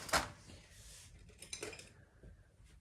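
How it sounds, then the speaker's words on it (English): A palette knife clinks and scrapes lightly against a small plastic watercolour paint palette, opening with one sharp metallic tap, then softer scattered clicks and rattles, quiet and close, with no speech. "One of these, a palette knife."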